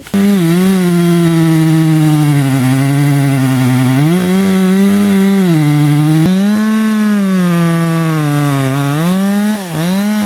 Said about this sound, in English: You're running a chainsaw on the ground.